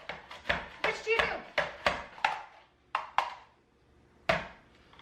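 A knife chops carrots into julienne strips on a board, giving a quick run of crisp, close chops followed by a few spaced single strikes with short pauses between them.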